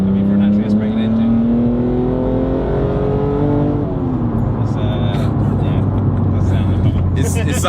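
BMW Z4M Coupe with a naturally aspirated engine revs steadily, its tone rising then shifting as it pulls, heard from inside or near the car beneath continuous conversation.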